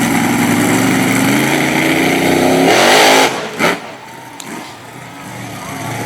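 A monster truck engine roars loudly and continuously on a dirt competition track in Sarver, Pennsylvania, with a rising rev for about three seconds before cutting off abruptly, leaving faint scattered knocks and background noise.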